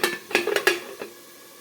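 A metal lid is handled on a cooking pot of chicken curry, giving a quick cluster of four or five light clinks and scrapes followed by a softer tap, close and clear against a quiet background.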